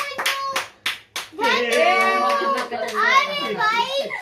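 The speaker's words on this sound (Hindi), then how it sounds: "ताली बजाओ" Several quick hand claps ring out near a baby at a rice-feeding ceremony evening, followed by a voice and an adult talking over them.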